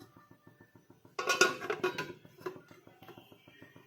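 A metal lid set onto a cooking pot of simmering paneer gravy in a home kitchen gives a short burst of clanking and rattling at close range, then softer clinks and a light steady ticking underneath.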